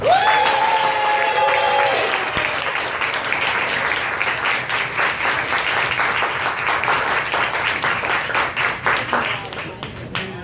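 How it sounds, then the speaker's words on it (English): Dinner guests applaud the students who served on the floor and in the kitchen, steady crowd clapping that swells and carries on for about ten seconds, with a brief tonal sound and talk near the start. "Can we give them a round of applause?"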